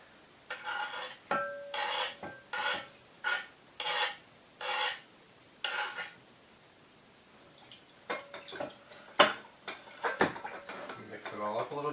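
Venison jerky meat being mixed with garlic in a bowl, giving repeated short rasping, rubbing bursts in a steady rhythm, close and moderately loud, with some clinks and a little talking between the strokes.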